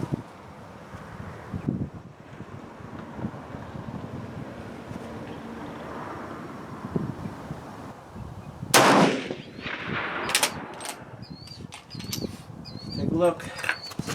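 A rifle fires 168 grain match rounds loaded with 42 grains of AR Comp powder on an outdoor range, with one sharp shot standing out over steady wind noise.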